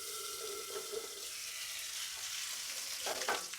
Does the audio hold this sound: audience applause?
no